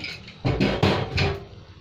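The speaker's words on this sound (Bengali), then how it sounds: "এবার আমি কুকারটা খুলছি, একটা সিটি দিয়েছি।" A metal pressure cooker lid being opened after cooking: a few close, sharp metallic clanks and scrapes in quick succession, loud and alone.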